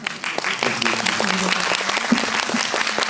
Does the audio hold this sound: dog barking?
no